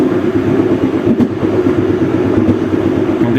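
From aboard the Bengawan passenger train near Tambun station, a loud continuous rumble of wheels on rail fills the car, with faint rhythmic clacks over the track joints and no voices.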